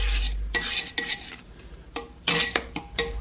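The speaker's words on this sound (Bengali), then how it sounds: "এখন যদি নাড়াচাড়া না করতাম তাহলে কিন্তু নিজ দিয়ে লেগে যেত" Food stirred in a cooking pot with a utensil makes a series of loud, close scraping strokes in an irregular rhythm, with a faint sizzle between them and no speech.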